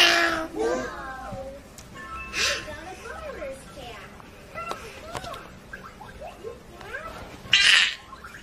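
A cat meowing repeatedly in short, close cries, mixed with a child's high-pitched voice and adult talk around it, with a few louder bursts near the start and end.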